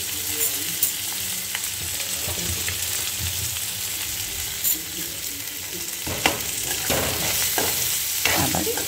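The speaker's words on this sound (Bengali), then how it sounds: "এগুলো দিয়ে একবার ভালো করে নাড়িয়ে নেব।" Finely chopped green chilli and coriander leaves are stirred in a frying pan over a constant sizzle. A spatula scrapes and knocks against the pan again and again.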